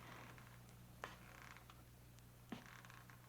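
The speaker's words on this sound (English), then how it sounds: "was it just the creaking of the old house?" Creaking of an old house in a dim room, used as a radio drama effect: faint intermittent creaks over a low steady hum, with a couple of sharper wooden cracks spaced about a second and a half apart.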